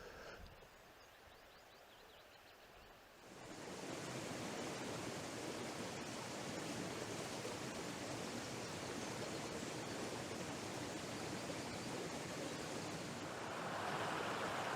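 A Dartmoor brook rushes in a steady, loud broadband wash after a quieter opening few seconds, continuous flowing water with no voices.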